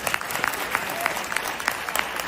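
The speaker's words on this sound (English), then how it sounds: "Clap your hands for Jesus." A church congregation claps their hands in rhythm, steady and close, with a faint murmur of the crowd beneath.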